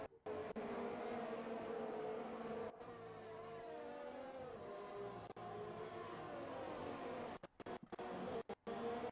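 Engines of race cars in a sim racing game whine through gear changes, buzzy and continuous. The pitch rises and falls as cars pass, with a few abrupt dropouts near the end.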